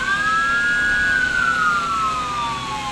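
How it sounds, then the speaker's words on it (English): The siren of a Brinc emergency response drone wails loudly as a single continuous electronic tone that holds steady, then slides gradually downward over a background hum. "This drone, just like an emergency vehicle, has got blue and red lights and a siren."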